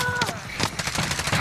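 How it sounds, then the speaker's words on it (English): Gunfire in the Call of Duty Warzone video game: a dense burst of rapid shots and bangs runs throughout, with voices talking over the shooting. "under heavy fire here"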